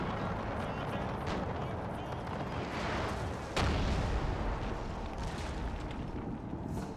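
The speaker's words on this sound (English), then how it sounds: "we get the howitzers firing" Howitzers fire in a war strategy video game set in the Austro-Prussian War of 1866, heard as a dense, continuous rumble of booming artillery with a sharper blast partway through, loud and sustained throughout.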